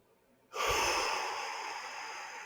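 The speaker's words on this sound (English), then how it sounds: "Big deep breaths in and out." A single deep, slow breath drawn in and released, heard close and alone after a brief silence, with a soft airy hiss that lingers and fades gently.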